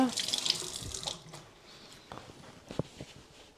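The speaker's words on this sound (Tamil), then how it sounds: "நீங்கள் ஒருக்கா வடிவாக கையை கழுவி போட்டு" Hands being washed under a running kitchen tap while making naan dough, water splashing into a sink loudly at first and then thinning to softer trickles and drips.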